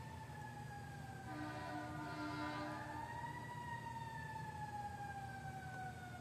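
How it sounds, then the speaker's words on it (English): A wailing siren rises and falls at a distance, growing a little louder mid-way, as it passes, over a low steady rumble. "Let the sirens pass."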